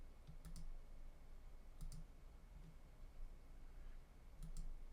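Computer mouse clicks at a desk, three faint pairs of quick double clicks spaced out over a low steady room hum, with no talking.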